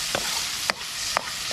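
Food stirred in a hot pan during the gisa, the sautéing step of Filipino cooking: three brief scraping stirs over a steady, fairly loud sizzle.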